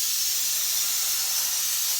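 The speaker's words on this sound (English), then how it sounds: "So the best way to clean these toasters is using compressed gas. In this case, I'm using nitrogen here." Compressed nitrogen blasts steadily from a nozzle into a commercial toaster, a loud continuous hiss of gas clearing out breadcrumbs, with no talk.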